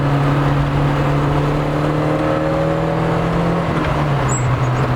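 A Volkswagen Golf Mk1 accelerating, heard from inside as a steady engine drone with rising harmonic tones over continuous road and wind noise, loud and without talk.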